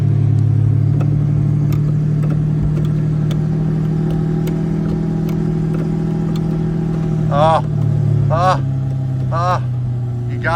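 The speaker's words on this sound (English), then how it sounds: "Listen to this cold start." A Lamborghini Murcielago engine idles at a steady, loud rumble after a cold start, then is revved in three short, sharp blips near the end. The engine sounds close by, and no one talks over it.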